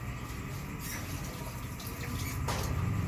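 Water poured into a pan of cooking sardines with malunggay, a steady continuous splashing pour heard up close and fairly loud, with no talking over it.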